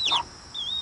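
A gray hen gives a quick pair of short, bright clucks, calling a chick toward food, close and alone.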